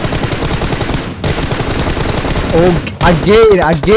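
Rapid automatic gunfire sprays in BGMI, the mobile battle royale game, in loud, dense bursts. A voice talks over the shooting in the second half.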